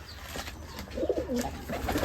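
Pigeons at a Bangladeshi keeper's loft give a few soft, low cooing phrases in the second half, moderately close, over a steady background hum with no talk.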